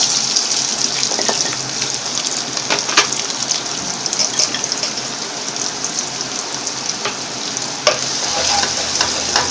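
Finely chopped medium onion and cumin seeds fry in hot oil, a steady, close sizzle with occasional stirring scrapes and spatters throughout.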